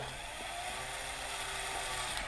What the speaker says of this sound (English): So this is his drill.